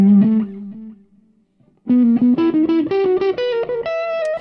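An electric guitar through a Magic Dust Duo pedal with the boost engaged gives a clean to low-gain tone: a few low notes ring and fade, then after a short gap a bright run of picked notes climbs steadily upward.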